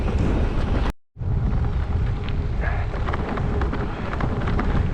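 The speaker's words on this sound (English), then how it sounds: "A little windy out today." Strong wind roars across the microphone during a gravel bike ride near Lake Apopka in Central Florida, loud continuous buffeting broken by one brief dropout, with no talking.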